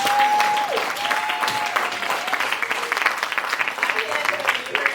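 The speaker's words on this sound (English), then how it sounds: "Let's give them another round of applause" Audience at an awards evening celebrating the Black experience gives another round of applause, a dense, loud stretch of many hands clapping steadily, with a voice briefly audible at the start.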